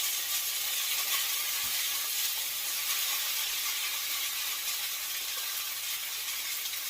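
Lo mein noodles for beef lo mein are stir-fried with garlic and ginger in a hot pan, a loud, continuous hissing sizzle with faint stirring rattles and no talk.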